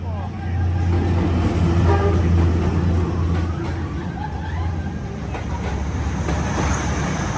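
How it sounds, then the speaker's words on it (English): On a Hanoi street, a train passes very close with a loud low rumble and rattling cars, opening with a sustained horn tone, while people talk nearby. "There's the train."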